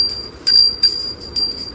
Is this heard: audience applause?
no